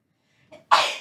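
A single loud, close sneeze, preceded by a brief sharp inhale, then silence.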